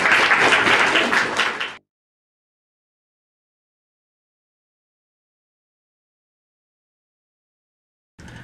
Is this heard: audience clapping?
yes